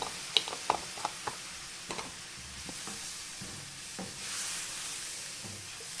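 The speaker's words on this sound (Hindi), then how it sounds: "तो थोड़ा सा मैं अपना दूध डालती हूँ, थोड़ा सा।" Milk poured into a hot pan and stirred while making macaroni pizza: soft sizzling with scattered light clicks and scrapes, rising into a brief hissing surge near the end, fairly quiet.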